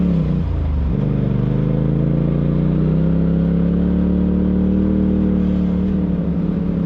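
Off-road side-by-side on the Hatfield McCoy Pinnacle trails pulling hard out of a dusty switchback turn, engine note dipping then climbing into a loud, steady droning rise, close and continuous with no talk.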